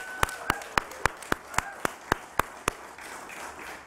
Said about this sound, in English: All right, we'll clap some more.